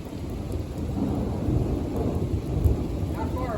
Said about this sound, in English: It looks like a light to moderate rain.